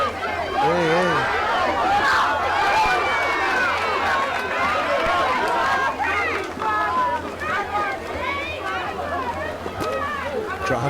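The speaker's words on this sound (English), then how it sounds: "Crowd getting very vocal with the referees." Crowd at a women's football final at the Reef Cup 2022 roaring and shouting at the referees, a loud, continuous mass of voices with yells rising over the din, and a commentator talks through it.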